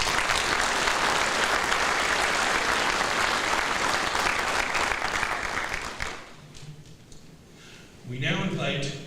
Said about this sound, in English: Let's give all our awardees one more round of applause.